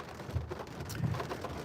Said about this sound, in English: I hope that rain's not bothering you